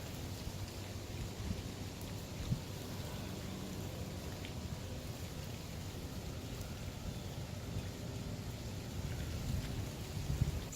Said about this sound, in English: So we've had a day here where it's raining.